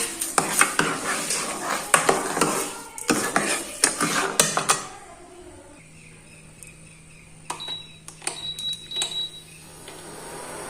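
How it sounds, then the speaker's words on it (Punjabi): A spoon stirs mango pulp with sugar in a metal pan: about five seconds of busy scraping and clattering strokes close by, then a quieter stretch with a few scattered clinks and light taps. "ਚੀਨੀ ਨੂੰ ਚੰਗੀ ਤਰ੍ਹਾਂ ਮਿਕਸ ਕਰ ਲਾਂਗੇ"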